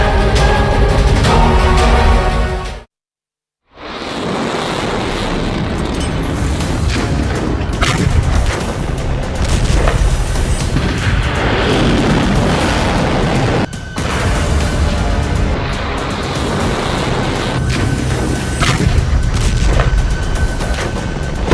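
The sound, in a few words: explosion sound effect, nuclear bomb blast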